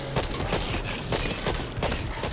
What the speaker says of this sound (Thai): แกยิงรถไม่หยุดเลย